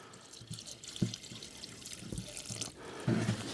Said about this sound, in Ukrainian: Заливаємо солярочку. Зараз глянемо, що там в баку.